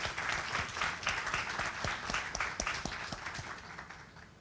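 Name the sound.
audience applause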